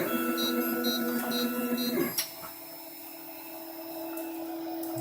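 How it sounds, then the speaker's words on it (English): A 3D printer heats its filament and begins a print, giving a steady mechanical hum with repeated stepper-motor tones, a brief sharp knock near the middle, then a quieter continuous whir. "it draws out a line of material just to make sure the print head is flowing properly"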